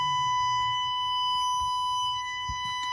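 A Chevrolet truck's warning buzzer sounds as a steady electronic tone, constant and clear throughout with faint low rumble and a few soft knocks beneath it.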